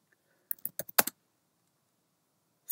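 A Mac computer keyboard gets a short burst of about six quick, crisp keystrokes, close and fairly faint, with near silence before and after.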